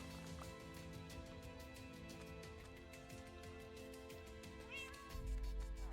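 Cats in the Minecraft video game meow repeatedly, several short mews over a steady backdrop of game music and ambience, fairly quiet throughout.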